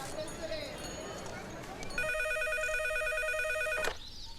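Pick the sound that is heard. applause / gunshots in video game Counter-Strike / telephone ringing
telephone ringing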